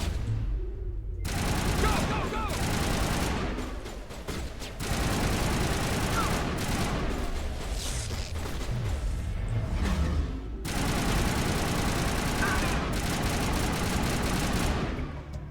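Sustained gunfire from a Mass Effect 1 firefight against mercenaries, dense overlapping bursts running almost the whole time with brief lulls, loud and close.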